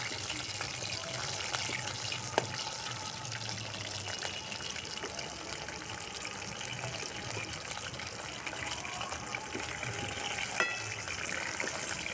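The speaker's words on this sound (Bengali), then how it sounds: "লাল লাল করে ভেজে তুলে দিতে হবে" Mustard chicken pakoras fry in hot oil, giving a faint, steady bubbling sizzle that runs the whole time with a few small clinks and no talk.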